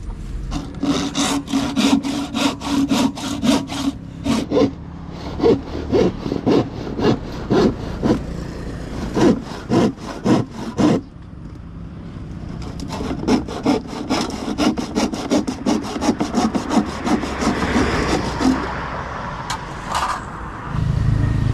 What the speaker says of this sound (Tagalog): Naglalagari siya.